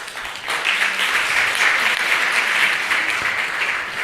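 Sustained audience applause fills a memorial lecture hall, a dense steady wash of clapping from many hands lasting several seconds without speech over it.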